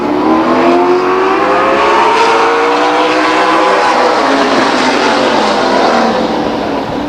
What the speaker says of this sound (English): Wadsworth and Zampa battle it out off of turn 2.